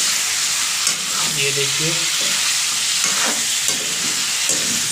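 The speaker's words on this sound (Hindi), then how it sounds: "हमारा चिकन जो है एकदम मस्त अच्छे से फ्राई हो रही है" Chicken for a chicken curry fries and is stirred in a pan, giving a steady loud sizzle with scraping stir sounds throughout and a brief spoken voice over it.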